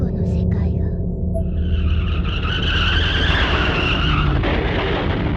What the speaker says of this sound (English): Then there was an oddly familiar sound, another car accident, again right outside my door.